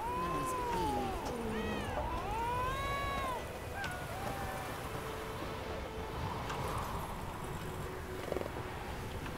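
A cat in the Witcher 3 video game meows several times in quick, wavering cries up front, then quiets, leaving a steady murmur of game ambience underneath.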